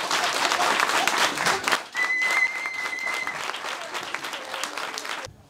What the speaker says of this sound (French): On va vous demander un tonnerre d'applaudissements, s'il vous plaît, pour accueillir Elisa